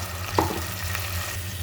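Ginger-garlic paste is stirred into onions already frying in a pan, giving a soft continuous sizzle. One sharp scrape of the spoon stands out near the start, and a low steady hum runs underneath.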